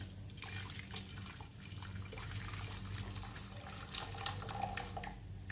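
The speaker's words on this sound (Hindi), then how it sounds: "चाशनी को आपने छान के शामिल करना है।" Melted jaggery syrup being strained into a large pot, a steady faint pouring and trickling of liquid with small splashes throughout, no talk.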